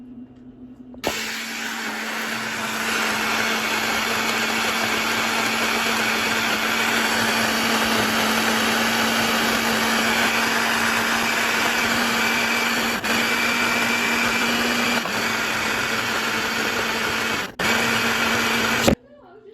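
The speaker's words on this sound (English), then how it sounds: "I'm going to keep on blending this until I'm just going to keep going back and forth from like chop to not" A blender whirs loud and steady at close range as it purees sea moss into a smooth gel, running continuously with a few brief pauses and clicks near the end.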